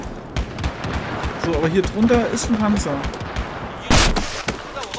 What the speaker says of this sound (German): Waren einfach 30 Leute, die auf mich schießen, gefühlt